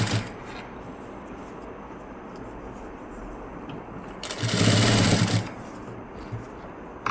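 A sewing machine runs close by while stitching the neckline of a lined blouse: a low, soft hum under quiet fabric handling, then one louder, steady burst of fast stitching lasting about a second before it drops back.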